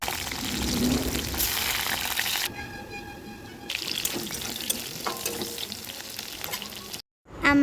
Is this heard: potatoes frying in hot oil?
yes